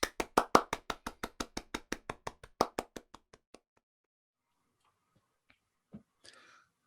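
Quick, evenly spaced hand claps at a virtual tech conference, loud at first, then thinning out and fading after a few seconds, followed by silence.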